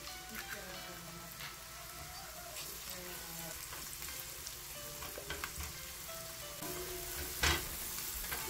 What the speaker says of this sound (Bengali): সব কিছুকে ডিমের সাথে এভাবে মিশিয়ে নিচ্ছি। তো 1 মিনিটের মতো ভেজে